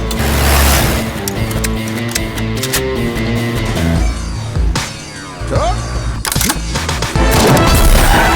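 A loud blast goes off in a Hindi-dubbed South Indian action film scene as a police officer is blown up, with a heavy boom and crashing debris over continuous film music, then a second burst near the end.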